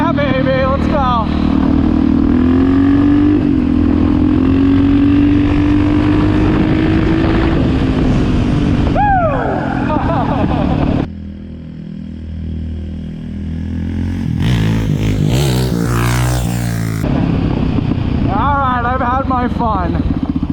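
A KTM supermoto motorcycle pulls through its gears, the engine droning loud and steady before rising sharply on upshifts, then fading under wind buffeting and a short burst of revving near the end.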